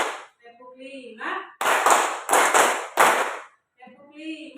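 Students in an elementary school classroom clap together in a patterned rhythm, three sharp group bursts, each made of rapid double hits, framed by spoken voices at the start and end.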